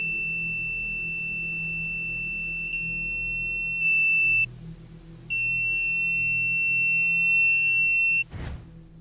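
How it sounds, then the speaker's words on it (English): A motion detector placed on a table in a music room goes into alarm, giving a steady, loud electronic tone that holds for several seconds, cuts out briefly, then resumes before a short burst of noise near the end. "the 360 goes into alarm as it detects movement"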